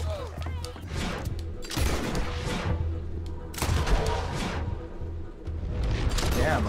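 Video game gunfire pops off in rapid bursts and volleys, loud and close, with clustered shots separated by short lulls over a low background rumble.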